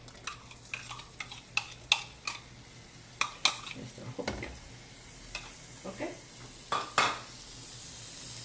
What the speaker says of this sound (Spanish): Después de poner el aceite, vamos a agregar nuestra mantequilla y nuestro ajo picado.